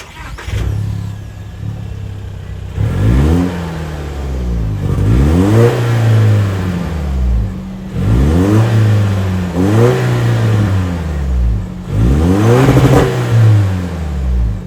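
A 2.4-liter turbocharged four-cylinder engine in a 2024 Toyota Tacoma TRD Off-Road revs up sharply four times in a row, each rise followed by a drop back toward idle, loud and close.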